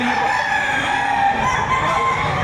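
Chickens at the Padre Garcia livestock auction market in Batangas cluck and crow in a dense, continuous chorus of fowl, with steady crowd bustle filling the background.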